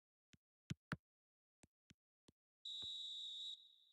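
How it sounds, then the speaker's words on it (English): A referee blows a steady, shrill whistle blast of about a second at half-time in the eFootball video game. It follows several sharp isolated clicks and fades out with a short ring. "Here's the half-time whistle."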